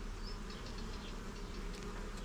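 Honey bees buzz on a hive frame as a dense, continuous close drone from many insects, steady and unbroken with no voices.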